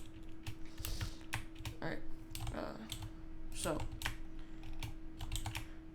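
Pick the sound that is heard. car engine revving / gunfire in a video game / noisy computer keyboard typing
noisy computer keyboard typing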